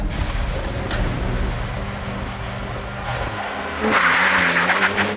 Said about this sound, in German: dritte und ich gebe Vollgas